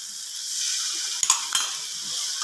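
Spice paste with shahi garam masala sizzles and fries steadily in a pan for Bengali katla fish kalia, a close, continuous hiss broken by a couple of brief stirring scrapes.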